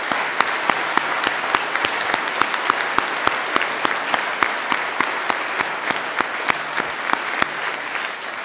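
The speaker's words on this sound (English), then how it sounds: "can we start off by giving all those who are involved a round of applause at this stage?" Audience applause fills a hall at the Belfast High School carol service: sustained, dense clapping from a large crowd at steady loudness, with sharp individual claps standing out throughout.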